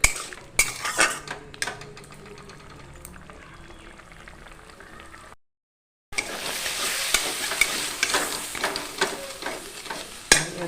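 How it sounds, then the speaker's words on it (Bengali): Potatoes and a little sugar are stirred in a pan for stuffed pointed-gourd chops, giving close scraping and clinking of a utensil against metal over a light sizzle, with a brief silent gap midway before louder stirring resumes. "একদম আলুগুলোকে ভালো করে মিক্সড করে নেব।"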